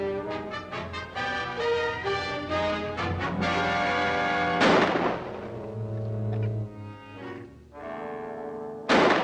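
Two sharp gunshot blasts ring out in a 1946 horror film, the first mid-scene and the second at the very end, cutting through loud sustained orchestral music.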